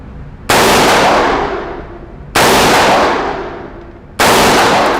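Three sharp, loud AR-15 rifle shots at a shooting range, evenly spaced about two seconds apart, each a sudden blast with a long ringing decay.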